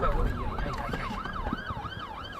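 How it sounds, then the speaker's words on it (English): An emergency siren wails up and down in a steady repeating cycle over traffic rumble, moderately loud and somewhat distant. "Siren just started then."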